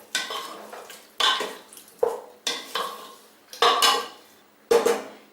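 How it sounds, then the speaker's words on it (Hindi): A spoon stirs kohlrabi and potato curry with garam masala powder and chopped coriander inside a pressure cooker, giving about six loud, close scraping clatters against the metal pot, each one fading before the next, with no talking. "अभी हम इसमें डालेंगे गरम मसाला पाउडर और कटा हुआ हरा धनिया। इसे अच्छे से मिक्स कर देंगे।"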